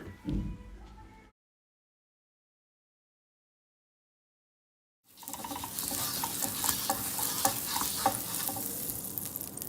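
Aloo paratha going onto a hot buttered pan: a short clatter, then silence, then a continuous close sizzle with scattered scraping and tapping as it fries.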